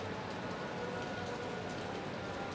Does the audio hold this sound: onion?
no